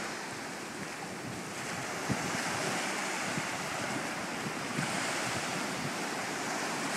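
Ocean waves and surf wash steadily at a beach where a dog swims out after a frisbee, a broad continuous rush mixed with wind noise on the microphone.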